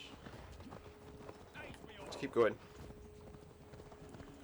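Horse hooves clip-clop at a steady trot in the Assassin's Creed Valhalla video game, moderately loud under game ambience, with a brief louder burst midway and someone speaking briefly over it.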